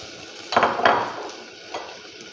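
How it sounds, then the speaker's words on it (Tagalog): Garlic and onion dropped into a hot pot for chicken arroz caldo, giving a couple of sharp sizzling bursts over a low frying hiss, with a faint utensil clink near the end. "ilagay na natin ang ating bawang and sibuyas"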